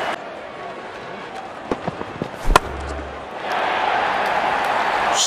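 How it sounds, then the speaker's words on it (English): A single crisp crack of a cricket bat hitting the ball in an India versus South Africa match, preceded by a few light knocks and followed by rising crowd roar in the stadium. "Shot. That's an excellent cricket shot."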